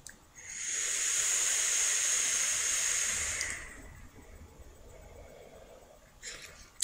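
A titanium variable wattage vape box with a LiPo battery firing at 10 watts, giving a loud steady hiss of vapor for about three seconds that cuts off sharply, then quiet room noise.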